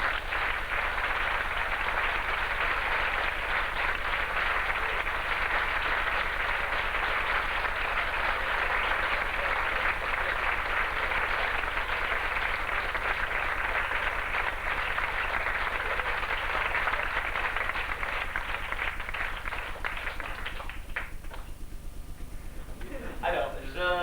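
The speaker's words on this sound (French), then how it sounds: "Je vous demande d'applaudir un acteur de grand talent," An audience applauds actor Henri Duchesne: a dense, steady wash of clapping holds for about twenty seconds, then thins and breaks up near the end.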